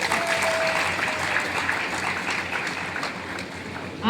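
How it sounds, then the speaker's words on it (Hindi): Sustained, steady applause from an audience honouring teachers fills the whole stretch, dense and evenly loud, with a faint tone briefly audible early on. "मैं चाहूँगा सारे गुरुओं के लिए एक बार शानदार ताली"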